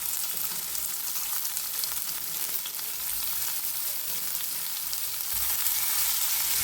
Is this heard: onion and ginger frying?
yes